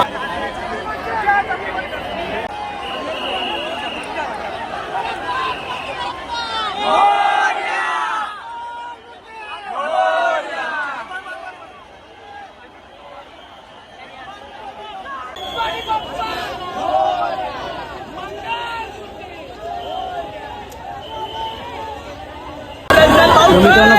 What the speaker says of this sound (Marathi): मित्रांनो गर्दी पाहू शकता तुम्ही किती गर्दी